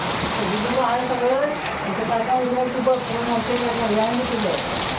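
Heavy rain pours down in a dense, steady roar while a voice talks over it.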